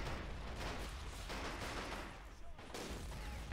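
Grenade launcher and surrounding gunfire in the WWII strategy game Men of War: Assault Squad 2 during a river crossing, a dense, rumbling burst of shots and blasts filling the short stretch with little pause.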